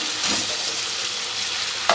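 Steady, close sizzling of potatoes frying in spices, with a brief scrape near the end.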